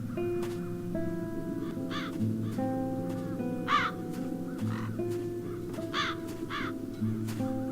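Several crows caw in The Dark Eye: Chains of Satinav, with loud repeated calls in short bursts over a steady bed of game music, no talking.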